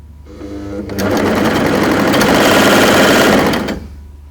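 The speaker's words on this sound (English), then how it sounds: "the machine has an AC motor that sews between 350 and 1350 stitches a minute." A bernette 62 Airlock coverstitch machine with an AC motor sews in one loud, steady run of rapid whirring and stitching. It starts after a short lower hum, continues at high speed, then stops near the end.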